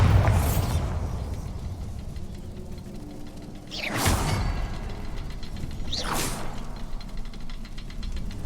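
Confringo and Bombarda spells blast in Hogwarts Legacy: three sharp explosive bursts with whooshing tails, spaced a few seconds apart over a low rumbling background.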